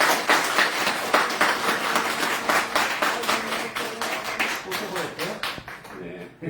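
A church congregation at a Korean Sunday worship service applauding a newly baptized young man, dense steady clapping through the room that fades out toward the end.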